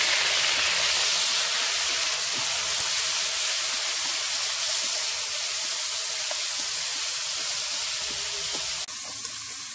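Ripe jackfruit, with chili already in the hot pan, sizzles in a loud, steady hiss that goes on without a break and drops off slightly near the end.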